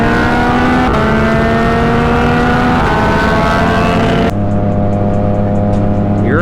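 A car engine races at high revs in a steady, loud, continuous drone, with the pitch shifting abruptly partway through as if changing gear.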